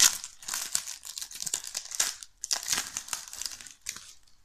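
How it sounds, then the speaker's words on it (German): FIFA 365 sticker booster packs are torn open and handled, giving bursts of sharp crinkling and ripping foil that come in irregular clusters at close range, with no voices. "Wir öffnen heute mal wieder 5 Booster von FIFA 365."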